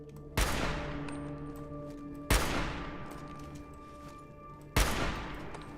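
Three single semi-auto hunting rifle shots in the Fallout: Vault 13 game, spaced about two seconds apart, each a sharp loud crack followed by a long fading ring over a steady low hum.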